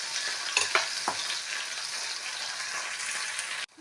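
Dried shrimp fry in oil in a pan with onion and green chillies, giving a steady close sizzle with a few utensil knocks and stirs early on, before stopping abruptly.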